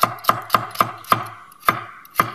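A knife chops peeled carrots into thin slices on a cutting board, with seven crisp, evenly spaced knocks falling roughly every quarter second, close and distinct with no talking.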